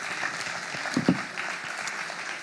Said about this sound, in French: Oui, on peut les applaudir tous, s'il vous plaît